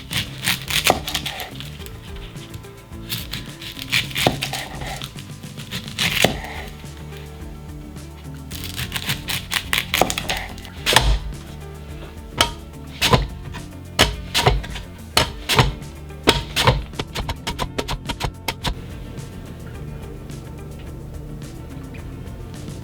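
Onions being chopped on a cutting board for smash burgers, bursts of rapid sharp knife taps against the board with short pauses between runs, close and crisp, no talking.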